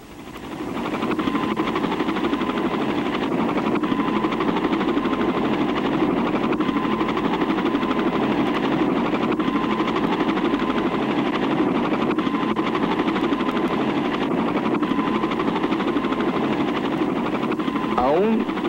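A steady, continuous helicopter mechanical drone with a thrumming engine tone, loud and unbroken throughout, with voices faintly mixed in, from a 1966 film.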